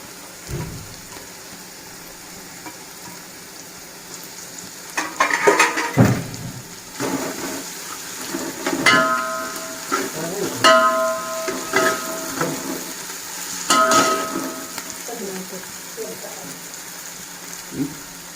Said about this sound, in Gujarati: હવે આપણે સારી રીતે આને સાંતળવા દઈએ